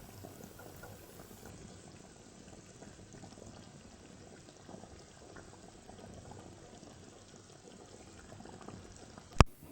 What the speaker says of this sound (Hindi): गोश्त को हमने चूल्हे पे चढ़ा लिया है और गोश्त गलने तक हम इसको पकाएंगे